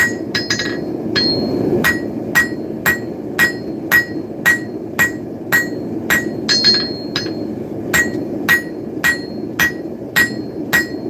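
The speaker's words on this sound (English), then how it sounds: "Does not like to move under the hammer" Hammer blows on steel while a blade is forged, a steady run of about twenty sharp ringing strikes at an even rhythm over a low background rumble, close and loud.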